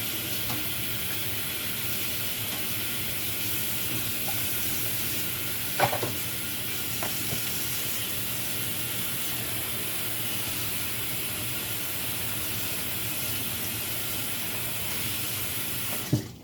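Salmon croquettes fry in shallow grease in a pan on a stovetop, giving a constant, even sizzle and hiss with a couple of brief utensil clinks.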